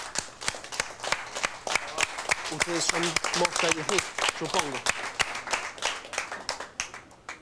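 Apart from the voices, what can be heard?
audience applause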